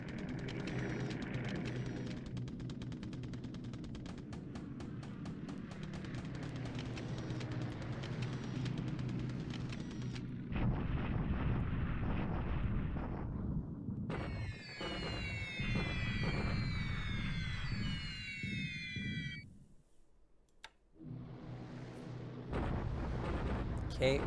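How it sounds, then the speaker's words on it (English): Bombing explosions come from the War in the Pacific strategy game as air strikes hit a hex. They form a long run of dense, rumbling booms and blasts, broken by a sharp swept effect and a brief lull before the rumbling returns. "now we're bombing up here in the Hex"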